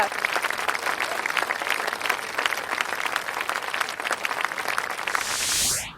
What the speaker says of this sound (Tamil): ஸோ உங்களுக்கு நீங்களே ஒரு பலத்த கைத்தட்டல் கொடுத்துக்கோங்க